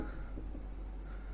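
Pen or chalk writing out a chemistry note on soft water during a Hindi-language lesson, a faint continuous scratching over steady low room hum.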